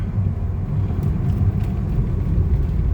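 A 1998 BMW 323i drives along with a steady low engine rumble and road noise heard from inside the cabin, with no clear gear change standing out.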